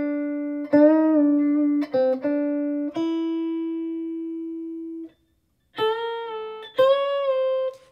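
Guitar notes bent upward and sliding off pitch outside the scale, several sustained tones with wavering bends, a pause, then two more bent notes, played alone and up close.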